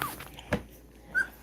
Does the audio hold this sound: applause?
no